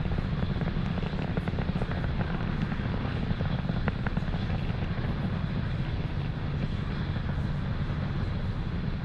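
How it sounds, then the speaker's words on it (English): A Falcon 9 rocket is in flight, passing through the speed of sound. Its engines give a steady, dense, crackling roar that stays loud and unbroken throughout, with no voices over it. "You just saw there Falcon 9 transitioning to faster than the speed of sound."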